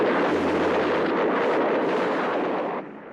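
MiG-21 jet fighter firing on a ground target over a range, heard as a continuous loud roaring burst of cannon or rocket fire lasting about three seconds before tapering off, with no voices.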